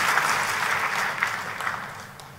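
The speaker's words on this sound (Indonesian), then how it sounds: "kalau tepuk tangannya yang meriah" Lively applause from a church congregation at a sermon, a dense steady clatter of many hands filling the space at moderate loudness, slowly easing toward the end with no speech over it.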